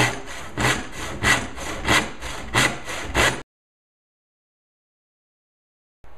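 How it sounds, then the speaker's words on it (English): A regular handsaw rasps through wood at the corner of a plunge-cut opening in rhythmic back-and-forth strokes, about seven close loud pulls, then abrupt silence before a brief return. "You just use a regular handsaw. So I'm going to insert it and just come down."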